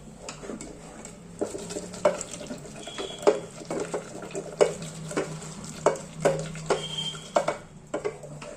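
A spoon stirs and mashes a Marathi safflower-leaf vegetable dish in a pan, making irregular scraping knocks and soft wet squelches at a steady working pace. The sounds are close and alone, with no talking.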